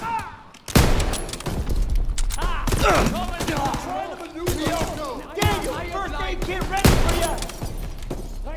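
Bursts of gunfire from Call of Duty WWII, Operation D-Day, crack out in repeated loud volleys with rattling shots between them, while players talk over the fighting throughout.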